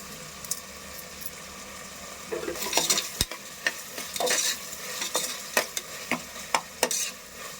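Green chilies sauté in a hot pan for a kothu kari, a soft sizzle running underneath as a spoon stirs and scrapes at irregular intervals, with no one speaking.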